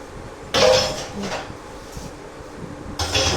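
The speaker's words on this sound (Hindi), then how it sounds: "अभी 2-4 और बर्तन रह गया धोने के लिए, सफाई करके रख दो।" Dishes being washed clatter and clink in a couple of loud bursts, with metal pots and utensils knocking together against quieter running water in a home kitchen.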